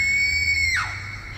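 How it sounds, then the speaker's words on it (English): A woman lets out one loud, high, sustained scream by a river at night. It holds steady, then breaks downward and trails off, close and alone. "Sarah's scream echoed across the river as she dropped it."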